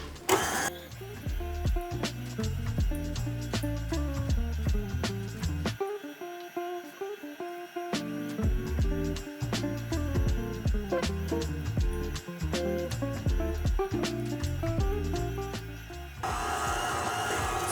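An electric mixer churns scone dough with cubed butter and oat milk, a loud, steady whirring with rhythmic knocking and thumping as the dough tumbles, briefly dropping out midway before resuming, no talking.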